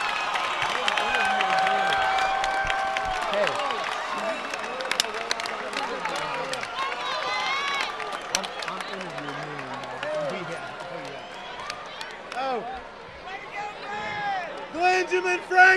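At a fight event after a TKO win, a crowd cheers and applauds, a steady roar of cheering and scattered clapping running beneath a ring announcer's amplified voice.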